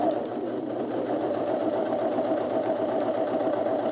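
A sewing machine runs continuously with chunky thread, stitching around the perimeter of dress pockets, a steady close-up whir with rapid needle rhythm throughout.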